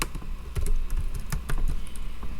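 Quick, close keystrokes clack on a computer keyboard as Python code is entered, an uneven run of sharp taps with no talking.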